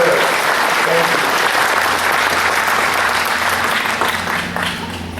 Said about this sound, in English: Please, let's hear a round of applause for them.